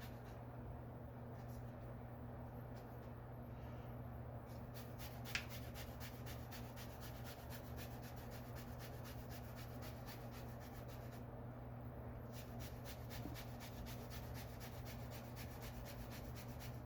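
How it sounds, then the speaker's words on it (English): A lemon being zested for homemade salsa, a soft steady rasping that scrapes on and off against a constant low hum, faint and close, with no talking. "Then we are going to zest some of it."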